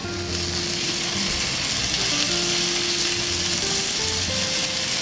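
Mushrooms and other ingredients for a peri peri vegetable pasta frying in a pan, a loud, dense, continuous sizzle close up with a faint steady hum beneath and no voices.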